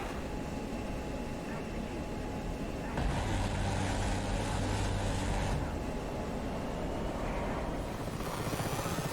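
A Syrian Mi-8 helicopter carrying commandos drones with steady rotor and turbine noise in a flight simulation game, loud and continuous, with a brief surge of broadband roar in the middle.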